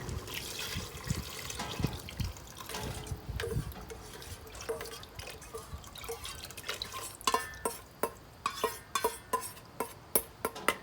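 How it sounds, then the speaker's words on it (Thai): Yanang leaf juice and rice poured into a pot of coconut-milk cassia leaf curry, starting as a gushing pour and turning into a run of distinct close drips in an even rhythm, with no talk. "ใส่น้ำใบยะนางเนาะน้ำใบยะนาง แล้วก็ข้าวเบื่อนะคะ เทลงไปเลยนะคะ"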